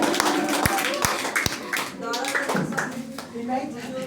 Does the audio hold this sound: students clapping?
yes